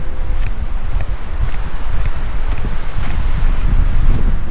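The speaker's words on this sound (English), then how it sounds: "It's so windy." Strong wind buffets the microphone at a fire lookout, a loud continuous low rumble with gusty swells and faint rustling throughout, no voices.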